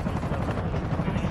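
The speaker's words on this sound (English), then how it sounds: "Oh, helicopter, you gonna save me?" A helicopter in the video game Resident Evil 3 gives a dense, loud rotor roar with a pulsing low throb that fills the short moment steadily.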